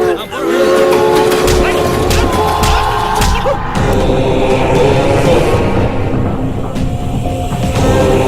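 A passenger train rumbling loudly close by, with rhythmic wheel clatter and a sustained horn tone over heavy, continuous rail noise.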